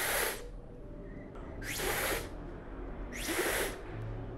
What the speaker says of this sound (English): You get a beautiful misty spray that comes out.